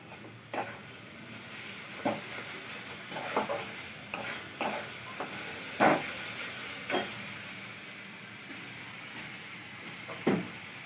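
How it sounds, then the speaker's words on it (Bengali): Green chillies fry in oil in a pan with a constant sizzling hiss, broken by occasional sharp crackles and spatters spread irregularly through the sound, with no talking. "দেখো এটা ভাজা ভাজা হয়ে গেছে"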